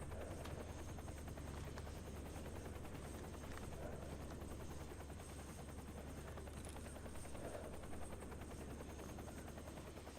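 A helicopter hovers overhead in the S.T.A.L.K.E.R. GAMMA video game, a continuous low rotor drone with steady thumping that stays constant and fairly faint throughout, with no voices.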